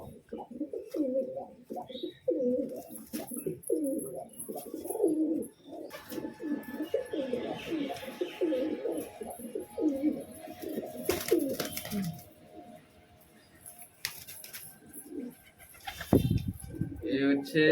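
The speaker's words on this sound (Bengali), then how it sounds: "এক একটা পায়রাকে ধরবো আর খাওয়াবো ওকে" Low, rolling coos from pigeons being caught and fed by hand repeat close by through most of the stretch, with a person talking over them and brief handling noises later.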